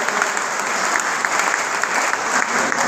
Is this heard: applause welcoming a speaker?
yes